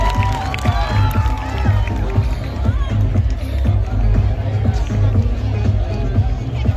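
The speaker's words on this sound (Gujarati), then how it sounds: "મિત્રો આપણે જોરદાર તાળીઓથી અમને વધાવી લઈશું" At a village welcome in Bogaj, a large crowd claps and cheers for an arriving guest, a dense, steady roar of applause and shouts with talk mixed in.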